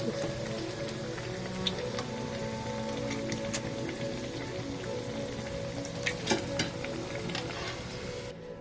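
Onion vadas deep frying in hot oil, a dense crackling bubble that holds steady throughout, with a few sharper pops and clinks near the end, close up and without talk.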